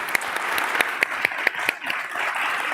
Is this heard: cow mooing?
no